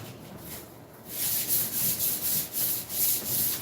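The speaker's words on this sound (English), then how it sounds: "Okay, back to the sanding." A quiet start gives way to rhythmic back-and-forth hand-sanding strokes on a Lasko box fan being restored, close and loud, repeating about every half second.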